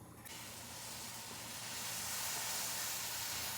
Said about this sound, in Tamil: பால் பொங்கி வருது.